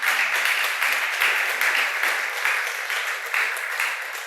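Congregation applauding during a church service, a broad, steady wash of many people clapping that holds at an even, fairly loud level throughout, heard alone without talking.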